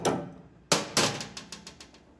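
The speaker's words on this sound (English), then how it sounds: "Sometimes you'll need to tap it into place. You can use your old trusty hammer here." A hammer taps a metal fuel line fitting into place on a 1968 Camaro, sharp close knocks followed by a quick series of lighter taps that fade off.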